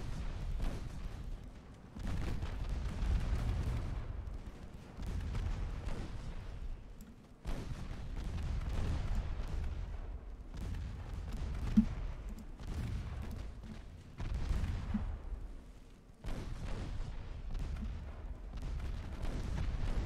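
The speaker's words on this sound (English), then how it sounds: "those 2-inch batteries are definitely like keeping up that stream of fire" Salvos from 2-inch gun batteries aboard a ship in the naval game Ultimate Admiral: Dreadnoughts, a sustained stream of heavy booming fire in repeated bursts, with brief pauses between volleys.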